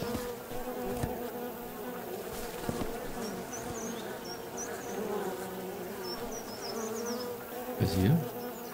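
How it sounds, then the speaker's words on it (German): Bees buzzing in the horror video game Siren Head Resurrection, a steady droning hum that continues through the whole stretch with no talk over it and a brief louder swell near the end. "Ich höre schon wieder Bienen."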